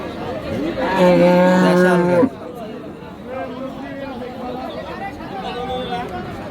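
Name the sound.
cattle at a cattle market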